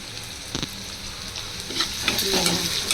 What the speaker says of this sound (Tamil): ஆனியன் பார்த்தீங்கன்னா ஆனியன் நல்லா ஃப்ரை ஆகட்டும்